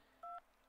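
Telephone keypad dialing in the video game Antenna Dilemma: a single short DTMF dual-tone beep, clean and steady, heard alone over a faint background hum.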